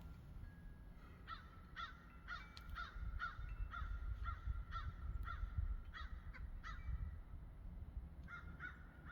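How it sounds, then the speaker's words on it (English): Crows caw repeatedly in quick rhythmic series, moderately distant, over a low outdoor rumble, with a short pause before a final pair of calls. "I hear the crows."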